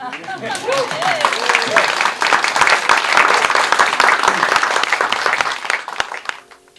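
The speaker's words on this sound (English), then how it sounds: "There's a glimmer of applause there, actually." A comedy show audience in Scotland claps, building from scattered hands into a fuller round of applause that swells in the middle and fades toward the end, with a voice speaking briefly at the start.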